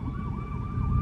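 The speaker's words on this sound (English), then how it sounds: "I apologize for that siren in the background." A police or ambulance siren wails close by, its pitch sweeping up and down steadily over a low rumble of road noise.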